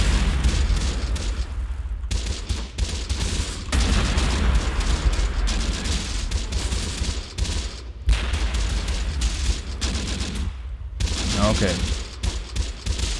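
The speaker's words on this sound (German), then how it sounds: "das war die gegnerische Artillerie" Enemy artillery fire in the war game Close Combat: The Bloody First, with heavy booms and crackling volleys of gunfire in dense, loud waves. Brief lulls break the barrage, and a voice speaks once.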